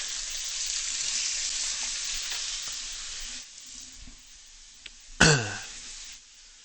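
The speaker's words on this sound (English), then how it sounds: "it's sizzling in the garlic oil, Mercury." Steady hissing sizzle of chicken frying in hot garlic oil that drops off partway, followed by a short sharp throat-clearing sound near the end.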